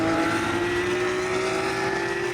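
Race cars at a racetrack give a steady, loud engine drone with a sustained pitch across the whole stretch, with no talk over it.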